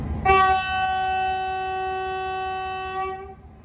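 A long sustained train horn blares loudly for about three seconds, steady and harmonic, then fades out, with faint rumble beneath, at Babaragala Pathana in Sri Lanka.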